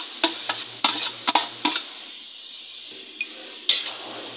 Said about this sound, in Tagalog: Haluin lang po natin mabuti para magsama-sama po yung gulay.